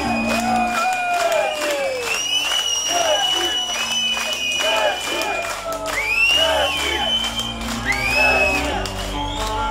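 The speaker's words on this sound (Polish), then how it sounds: "No i teraz wszyscy klaszczamy" Crowd at a live trance DJ set in a club, whooping and cheering with scattered clapping, loud and continuous over pulsing music, with shouted voices rising through the mix.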